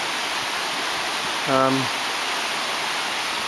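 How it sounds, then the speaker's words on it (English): A river in a valley flows with a steady, broadband rush of water, continuous throughout, while a brief voice passes over it partway through. "And there's the river."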